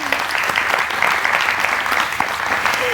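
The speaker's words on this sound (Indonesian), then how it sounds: "boleh saya dengarkan tepuk tangan dulu yang paling meriah" Studio audience applauding on an Indonesian evening television talk show, a dense, steady burst of many hands clapping that stays loud and close from start to finish.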